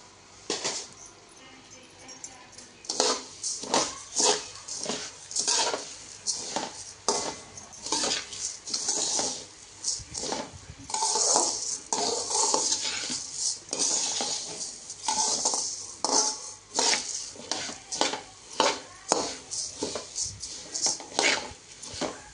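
Coriander seeds dry-roast over a low flame while a spoon stirs them in a pan, producing repeated close scraping and metallic clinks in an uneven rhythm.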